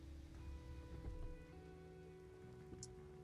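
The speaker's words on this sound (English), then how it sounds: "How about we get out of the rain?" Rain falls steadily in Final Fantasy XV, a soft, continuous patter that stays faint and even throughout, with faint sustained tones beneath it.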